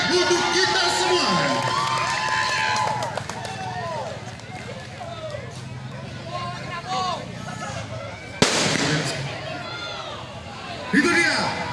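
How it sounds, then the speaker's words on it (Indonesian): A crowd cheers and shouts during a hostage-rescue demonstration near the Aceh Tamiang regent's office. Excited whoops and children's yells rise and fall, with a few sharp bursts and a person talking over the noise. "beri tepuk tangan yang meriah untuk kita semua"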